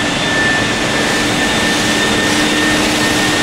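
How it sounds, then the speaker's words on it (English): A vacuum cleaner runs steadily, drawing boric acid up through a tube in a loud, continuous, unbroken roar with a faint high whine on top and no talking. "So vacuum cleaner providing a vacuum up there"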